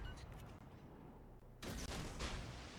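Naval guns fire in the World of Warships Legends video game: a quiet rumbling stretch gives way to a loud, sudden burst of cannon fire that rolls on to the end.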